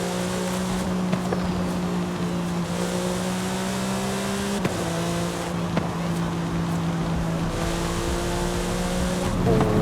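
A Porsche 911 GT3 engine in Forza Horizon 5 revs hard during a night drive, its steady droning pitch climbing, dropping briefly at gear changes, then rising again, loud and continuous with no talk over it.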